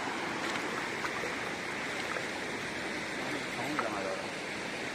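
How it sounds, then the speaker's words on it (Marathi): The Muchkundi river rushes beneath a bridge, a steady broadband roar of fast-flowing water heard alone at moderate distance. "पाणी बघा कसं झोतानी एकदम धावतंय."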